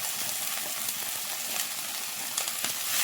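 Finely chopped onions sizzle in a pan of frying chicken curry with coconut milk, a dense, steady hiss close by with a few soft scraping stirs and no voices.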